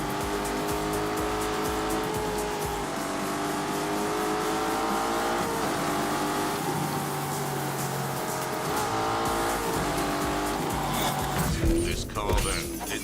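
A Lamborghini Urus driven in snow mode, its engine droning loudly and continuously with busy rising and falling tones, a voice talking over it.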